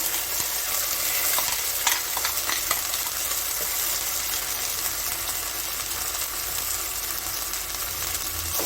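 Onion and peanut paste frying in a pan with prawns and ladies finger, a loud continuous sizzle under stirring and spatula scrapes, with no talking.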